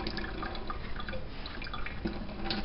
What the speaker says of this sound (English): And just let that drip out